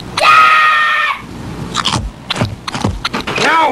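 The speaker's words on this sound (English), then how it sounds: "Dad says if you make a scream" A cartoon character in a Butterfinger candy bar ad gives a loud scream lasting about a second, followed by crunching, scraping and rustling effects.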